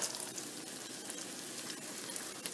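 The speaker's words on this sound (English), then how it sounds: "when you're cooking over a pan like this with hot oil that you don't get splattered" An Eskimo donut frying in hot oil in a pan, giving a steady, close sizzle with fine crackling spatter throughout and no voices.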